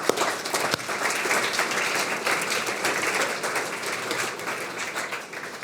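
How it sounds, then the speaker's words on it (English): An audience at an art prize award ceremony applauds the winners, a full, even wash of clapping from a sizable crowd that holds steady for several seconds. "I think this begs a round of applause"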